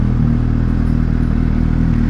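Naked sports bike engine revving hard during a wheelie, a loud close throbbing roar with a steady low pulse throughout the short burst.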